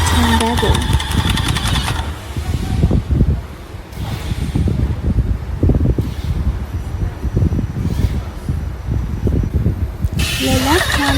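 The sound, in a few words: EA895S engine running during water test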